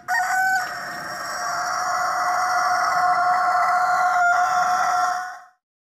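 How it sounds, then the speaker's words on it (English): A rooster lets out one long, loud crow lasting about five seconds, held steady and close by, then stops sharply. "Rooster."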